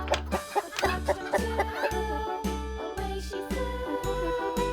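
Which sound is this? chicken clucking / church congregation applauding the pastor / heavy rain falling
chicken clucking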